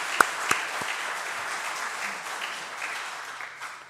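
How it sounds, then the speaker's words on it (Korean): A congregation applauds in a church during a Sunday worship service, a broad steady wash of many hands clapping at moderate loudness with a couple of sharper claps near the start, fading slightly toward the end. "우리 한번 감사의 박수 함께 하도록 하겠습니다"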